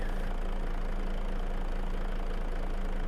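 Tractor engine idling in the Farming Simulator 25 video game, a steady low rumble with a constant hum running unbroken and evenly throughout, with no talk over it.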